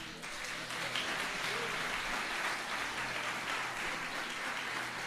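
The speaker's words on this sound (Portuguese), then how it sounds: "Você pode aplaudir o Senhor?" A Baptist church congregation at an anniversary service applauds together, producing a dense, continuous wash of clapping that holds evenly for about five seconds with no break.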